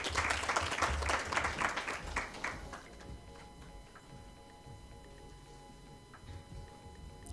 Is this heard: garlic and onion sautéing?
no